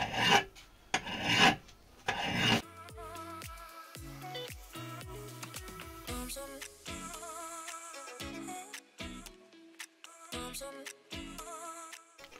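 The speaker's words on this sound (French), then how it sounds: "Travailler un petit peu à la lime pour voir ce que ça donne." Hand file rasping against a restored cobbler's hammer, with dense scraping strokes up close at first, then lighter, uneven rubbing and scraping with brief pauses.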